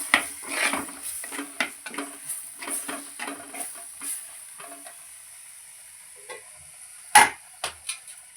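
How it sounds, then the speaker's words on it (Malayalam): Blended tomatoes are stirred into a fish curry in a pan: a soft, low sizzle with repeated scraping taps of a spoon against the pan, then a sharp metallic clink near the end. "നമുക്ക് ചേർത്ത് കൊടുത്ത് ഇളക്കാം."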